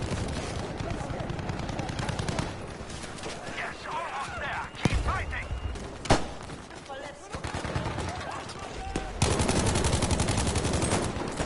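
Gunfire in the shooter game Battlefield V: loud rapid automatic bursts and sharp single shots crowd the scene, with brief pauses and heavy impacts, as players talk over the shooting.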